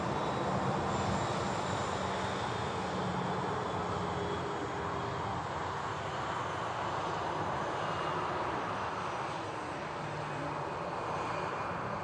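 A passenger jet at Manchester Airport, bound for Paris, gives a steady, loud engine roar with a broad rushing hiss that holds evenly throughout, without a break.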